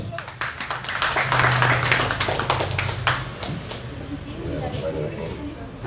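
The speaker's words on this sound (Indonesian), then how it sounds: "kita beri aplaus" An audience at a public gathering claps for a speaker being welcomed, a burst of many hands clapping that swells then tapers, with voices talking over it.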